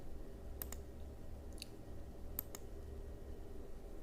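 A computer mouse clicks a few times, sharp light clicks in close pairs spaced over a few seconds, with a steady quiet room hiss underneath.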